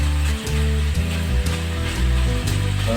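Laing ingredients sizzle and fry in their own rendered oil in a home kitchen pan, a steady close crackle running the whole time with small pops scattered through it.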